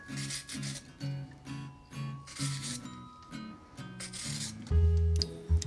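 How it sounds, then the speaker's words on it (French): A vegetable peeler is drawn over a cucumber in repeated outward strokes, close-up scraping and rasping about every half second, ending with a couple of louder knocks. "il suffit d'avoir un éplucheur et d'éplucher son concombre en allant avec la lame vers l'extérieur"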